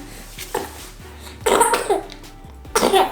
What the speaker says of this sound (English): Oh, she's coughing